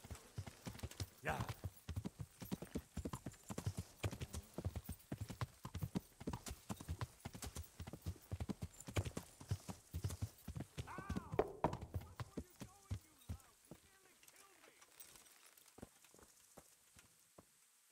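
In the medieval video game Kingdom Come: Deliverance, horse hooves clip-clop at a steady walking rhythm, close and crisp. A brief whinny comes near the middle, and the steps thin out toward the end.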